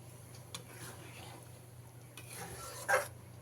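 A spoon scrapes and clinks around a pot of masoor dal mixed with fried bitter gourd, faint intermittent stirring scrapes with a sharper metallic tap near the end over a low background hum.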